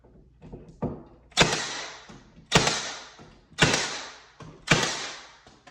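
A trim nail gun fires into wood on a closet top shelf build, five sharp percussive shots spaced about a second apart, each with a quick decay, close and loud with no talking.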